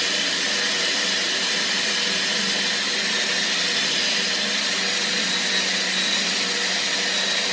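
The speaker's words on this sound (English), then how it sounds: "So once I've got that, I just drill all the way through." A power drill whirs continuously at high speed for several seconds, loud and close, a steady grinding hum with no talking.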